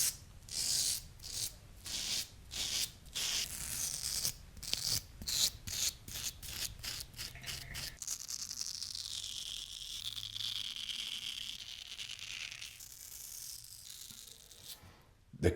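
A razor shaving facial hair against the grain on a first shave, giving a run of rapid scraping strokes close up, then a longer continuous rasping drag.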